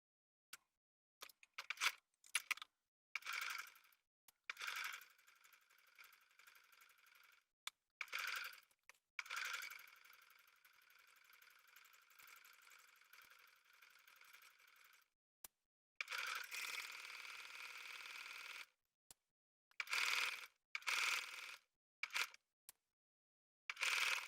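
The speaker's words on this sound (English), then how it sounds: "I'm just going to edge stitch along this folded edge to sew down the self-facing or the button placket of the shirt." A sewing machine runs in short stop-start bursts while edge stitching down the button placket of a shirt, its faint whirring broken by brief mechanical clicks and quiet gaps.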